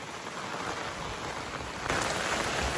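Heavy monsoon rain pours down in a dense, steady roar in Adivare village, Maharashtra, during river flooding, growing a little louder and harsher partway through, with no talking.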